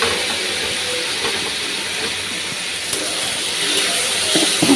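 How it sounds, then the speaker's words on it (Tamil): Tomatoes frying in a pan with curry leaves for a chickpea curry masala, giving a steady broadband hiss and sizzle that holds at an even level throughout, with no talking. "தக்காளி பழத்தை ஆட் பண்ணி நல்லா வணக்கணும்"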